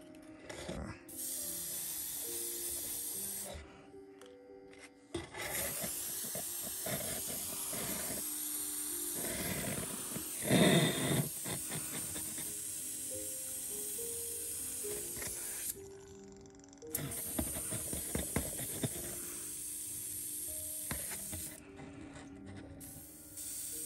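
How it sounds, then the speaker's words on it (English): An airbrush sprays ink onto a leaf with a steady, close hiss interrupted by short pauses as the trigger is released and pressed again, with faint mechanical clicks. "I'll spray one of the leaves here."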